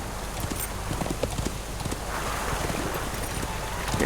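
Horse hooves clip-clop steadily while riding toward a wharf in Lord of the Rings Online, a continuous close hoofbeat rhythm over a windy outdoor ambience with no one talking.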